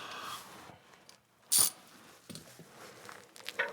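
A torque wrench clicks once, sharp and fairly close, while tightening a bolt during a 400-hour service on a Kubota B2601 tractor; quiet workshop rustling surrounds the single click.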